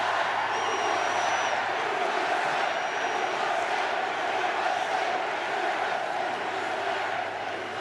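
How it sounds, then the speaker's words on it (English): A large crowd at an outdoor political rally in Bozeman, Montana roars and cheers continuously, a loud, steady mass of voices and shouts that barely dips across the span. "This is a big crowd."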